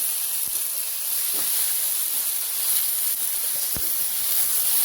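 Ingredients for ghera bata fry in a pan with a continuous bright hiss and sizzle, steady and close, broken by a few faint utensil knocks.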